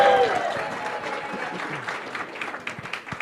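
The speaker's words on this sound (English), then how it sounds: "get ready to use your outdoor voices because we get to cheer for Montague" Audience at a Rotary club weekly meeting applauding and cheering for Montague high school seniors, a dense wash of clapping that starts loud and tapers slightly, with a brief tone at the very start.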